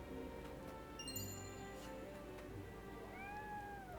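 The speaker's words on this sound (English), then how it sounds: "I'm talking to all the cats." Cats meow in the video game Triangle Strategy, a few clear drawn-out meows over a soft, steady game music bed.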